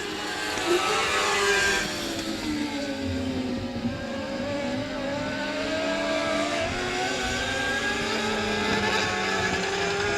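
Dirt-track Mod Lights race cars roar around an oval during a heat race, with several engines droning and shifting pitch as they pass in a steady, loud blend.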